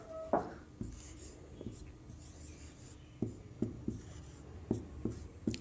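Chalk or marker strokes on a classroom board as a teacher writes examples during an English grammar lesson: intermittent short scratchy taps and rubs, faint and spaced, with low room noise between strokes.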